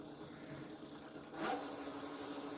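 A Seeker 24/26 electric fatbike with two-wheel drive accelerates, its motor giving a faint, low whine that swells briefly partway through against quiet background hiss.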